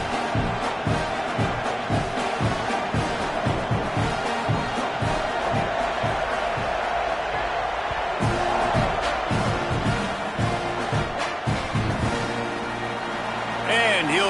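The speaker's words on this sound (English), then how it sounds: "Night games are always so loud, so obnoxious, and these fans, they get something to cheer about" Roaring stadium crowd at a night game in a Texas vs Texas A&M college football video game, a steady dense wall of cheering and whooping that swells near the end, with a commentator's voice running over it.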